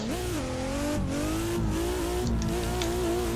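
BMW engine revving hard in the Assetto Corsa racing game during a drift run at Bihoku Highlands, a sustained high-revving tone whose pitch rises and dips through gear changes, with brief tire-squeal edges and no talking.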